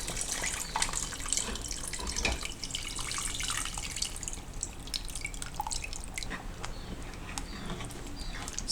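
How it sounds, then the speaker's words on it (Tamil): Dissolved tamarind water poured into a pot of sambar, a steady close trickle and splash with scattered drips that runs continuously for several seconds, no talk. "கரைச்ச புளியை சேர்த்துக்கிறோம்."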